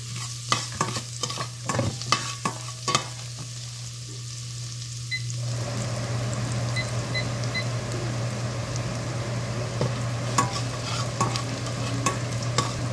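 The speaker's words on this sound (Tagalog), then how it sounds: "Lagay natin ang garlic. Nagsisizzling sound na siya." Garlic drops into a hot pan and starts frying for lomi, some clinks and stirring first, then a steady close sizzle that fills the rest, with no talk.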